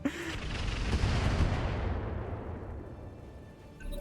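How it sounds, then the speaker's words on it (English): Heavy weapons fire in the mech video game RogueTech: a loud burst of booming, rumbling shots at the start that decays into a long fading roar, with no talk. "they're just going to continue firing over here"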